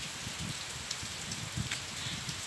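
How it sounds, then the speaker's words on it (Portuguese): Rain falls outdoors on an overcast day, a dense steady wash of drops with soft irregular low pattering throughout. "Tá chovendo, gente."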